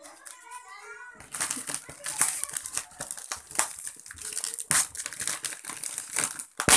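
Plastic wrapping and packaging crinkling and tearing as a BM 800 microphone parcel from Lazada is opened, loud close rustles in uneven bursts, with a voice and talking alongside.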